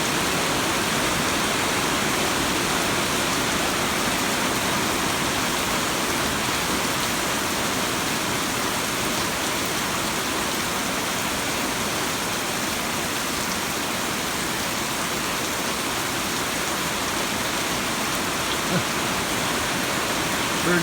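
Rain falls steadily over open farmland with a constant, even hiss that stays close and unchanging throughout.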